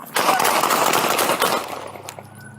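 Gunfire during a police bodycam encounter: a rapid, loud burst of several shots close by, ringing out in a dense cluster over about two seconds before fading, with a raised voice mixed in.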